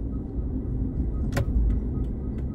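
Steady low engine and road rumble from a car being driven, with a brief sharp click or rattle near the middle and fainter ticks afterward, fairly loud and close inside the cabin.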